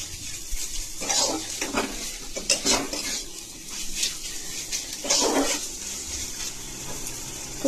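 Taro greens with grated coconut being stirred and sautéed in a pan, a soft sizzle under repeated scrapes and clinks of a spatula against the metal, close and irregular.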